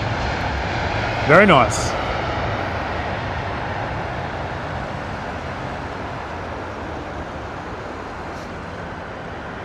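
A United airliner in Star Alliance livery departs London Heathrow, its jet engines a steady distant roar across the whole stretch, with a brief voice and a chirping sound near the start.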